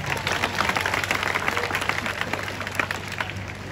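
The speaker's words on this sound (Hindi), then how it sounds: "तो एक बार आप लोग तालियां बजाइए, मैं शुरू करता हूं।" An audience at a Hindi comic poetry gathering in Bihar breaks into dense, steady applause, a crowd of hands clapping together loudly and continuously from start to finish.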